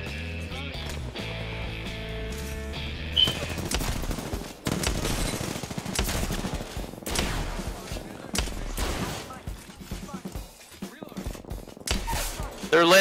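Bursts of automatic gunfire in Apex Legends, irregular volleys rattling through the firefight while several players talk excitedly over the shooting.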